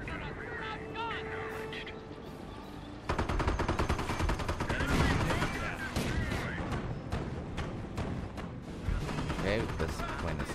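Battle gunfire in the World War II strategy game Company of Heroes: dense, overlapping bursts of machine-gun and rifle fire with heavier blasts, loud and continuous, and intensifying about a third of the way through.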